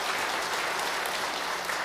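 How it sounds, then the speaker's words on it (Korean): A church congregation claps for the Hosanna choir, a brief, steady wash of applause at moderate distance, filling the whole moment without pause. "우리 호산나 찬양대회 위해서 한 번 더 박수해 주겠습니다."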